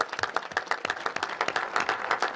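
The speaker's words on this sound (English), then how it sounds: "So give yourselves a round of applause." An audience at a National Space Council meeting breaks into applause, with dense, steady clapping from many hands sustained throughout and no talk over it.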